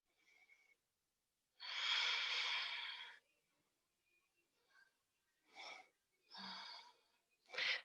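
A breath drawn in during a yoga lesson: one long, soft, airy inhale of more than a second, close to the microphone, among shorter breaths and brief quiet voice sounds.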